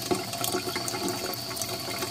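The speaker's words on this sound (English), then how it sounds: "And we'll turn that off and turn on the hot water." Hot water from a 30 amp, 220 volt IsoGreen tankless water heater runs from a tap in a steady, close rushing stream, continuous and fairly quiet with no voices.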